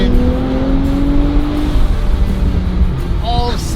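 A turbocharged Nissan Z NISMO on a long rally drive winds its engine up quickly toward 6,000 RPM in third gear, a loud, continuous close-up drone with rising pitch and a brief squeal near the end.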